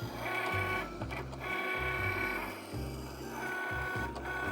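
A Cricut cutting machine whirs and buzzes in short rhythmic bursts as its carriage shuttles back and forth cutting along art cut lines, quiet and close with no voices.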